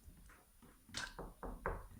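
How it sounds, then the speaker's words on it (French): Four hollow knocks land on a door in a steady, evenly spaced run, fairly close over a quiet background hiss, with no talking. "Ils frappèrent à la porte."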